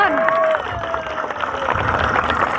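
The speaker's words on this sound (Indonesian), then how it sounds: "Tepuk tangan." A crowd claps and cheers at a public event in Central Java, a dense burst of applause with some whistling at the start, continuing steadily and fairly loud.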